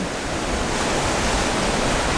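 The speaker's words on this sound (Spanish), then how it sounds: "porque ahorita sí las olas están alebrestadonas" Rough ocean waves break along the Mazatlán seafront in a steady, loud, broadband roar of surf that continues without pause.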